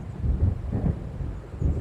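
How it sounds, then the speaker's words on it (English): Low, rolling thunder rumbling from an approaching storm in the video game Alan Wake, a deep continuous roar that swells and eases over a couple of seconds, with no voices. "It seems there's a storm coming."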